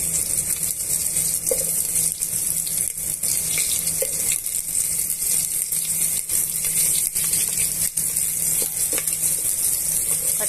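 Onions and green chillies frying in a pan for bagara rice, a steady loud sizzle with faint scattered crackles and no talk.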